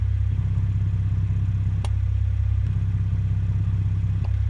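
A Toyota Supra A90 idles with a deep, steady rumble through a custom exhaust that grows louder and fuller, then drops back, as its exhaust valve is opened and closed.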